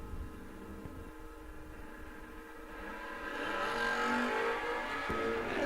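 A Plymouth Scamp drag race car runs at a drag strip, its engine a steady distant rumble that swells louder and brighter toward the end as it accelerates past.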